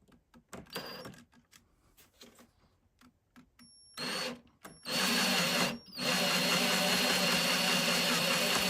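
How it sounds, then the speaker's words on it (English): A power drill spins in reverse to back out a screw with a cheap screw extractor, giving short stop-start bursts of whirring and then a sustained loud, steady drone near the close. "I'm going to now reverse the drill"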